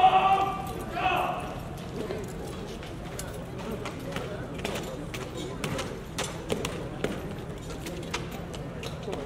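Hooves of Horse Guards horses clip-clop on pavement in a brisk, regular rhythm, fairly close and steady, with people talking over them.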